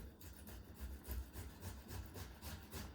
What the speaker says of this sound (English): And go ahead and grate your tomato too.